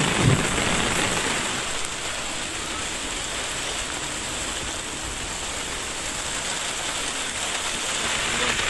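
Heavy rain pouring over Hyderabad streets, a dense, constant wash of hiss and splatter at steady loudness throughout, with no pauses.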